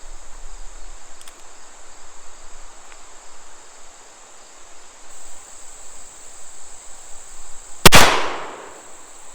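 A single sharp gunshot from a Pietta 1858 Remington cap-and-ball revolver, fired one-handed, cracks out loud and alone near the end, after a long stretch of steady insect-like background buzz.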